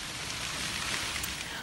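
Storm rain with hail pounding down in La Puebla de Roda amid strong winds, a dense, steady broadband hiss of heavy precipitation throughout, close and continuous with no distinct individual impacts.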